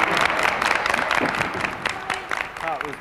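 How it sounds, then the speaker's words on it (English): A children's theatre audience at a live family show in a concert hall claps briefly, the patter mixed with a performer's voice and children's chatter over it. "give a round of applause for the fishies"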